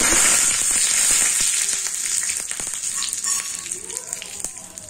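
Cumin and mustard seeds sizzle and crackle in a spoonful of hot oil, a loud steady frying hiss with scattered sharp pops that eases off slightly over the few seconds.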